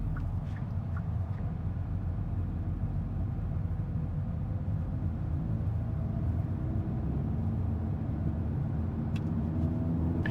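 A 2024 Hyundai Elantra N driving on the road, giving a steady, loud low engine and road rumble that runs unbroken throughout, with a couple of faint high ticks near the end.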